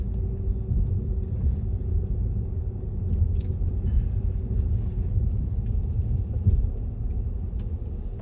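A car drives slowly along a residential road in the Lickey Hills and Barnt Green, U.K., then turns around, with a constant low engine and tyre rumble close by and no talk.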